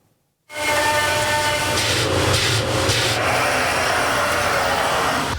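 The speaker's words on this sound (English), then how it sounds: "That was the sound of your favorite beer's tap handle being made." Steady, close rasping of sanding a wooden beer tap handle starts abruptly after a moment of silence and continues evenly with slight rhythmic variation.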